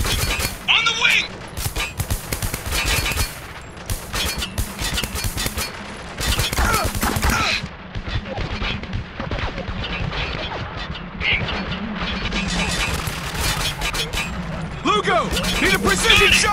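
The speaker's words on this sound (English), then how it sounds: "We're taking some heavy fire here!" Heavy automatic gunfire and explosive blasts rattle continuously through a Spec Ops: The Line firefight, loud and dense for the whole stretch, with soldiers shouting over the combat.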